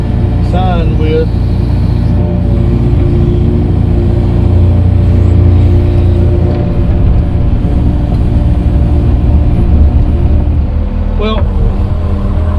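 A truck engine drives at a dirt-grading site near a billboard install, a steady, loud low rumble running unbroken throughout with faint voice traces on top.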